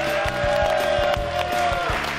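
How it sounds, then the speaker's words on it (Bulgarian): Studio audience applause on a Bulgarian television show, dense steady clapping throughout with some crowd noise, a sustained tonal music note running underneath. "Аплодисменти за нашите образи."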